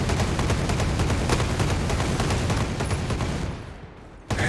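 Rapid automatic gunfire in the video game Ghost Recon Breakpoint, a loud continuous fusillade of overlapping shots that cuts off and fades out near the end before one last burst.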